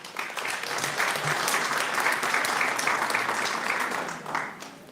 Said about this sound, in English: ladies and gentlemen, another round of applause for Nadia.